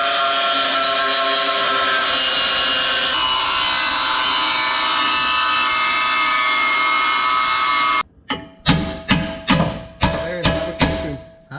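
A loud, continuous grinding roar of a power tool cutting metal on a Subaru STI runs for several seconds, then stops abruptly, followed by a series of sharp clanking impacts.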